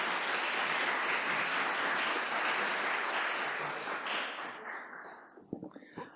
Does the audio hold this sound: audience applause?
yes